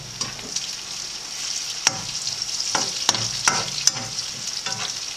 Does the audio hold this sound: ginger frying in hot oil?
yes